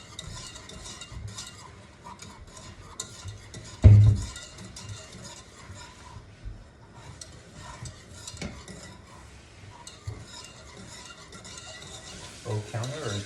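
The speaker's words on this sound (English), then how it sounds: "Can you stir that?" Mac and cheese is stirred in a pan with a utensil, giving soft scraping and clinking against the metal over a faint sizzle, with one sharper knock partway through, close and moderately quiet.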